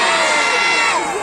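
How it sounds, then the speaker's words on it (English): Crowd at a street performance in Dublin cheering and whooping loudly together, a dense, sustained roar of many voices with higher shouts on top, close and continuous for a brief burst. "Loudest cheer of the show every single time."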